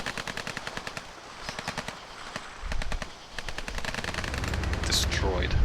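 Rapid automatic gunfire bursts and single shots from a Tropico 5 skirmish, rattling in quick repeated volleys over a low rumbling game soundscape, with a louder boom near the middle.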